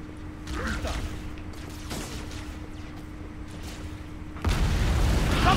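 Explosions boom in Halo Anniversary on The Pillar of Autumn level, rumbling blasts mixed with a steady hum and game sounds, a heavier burst arriving near the end.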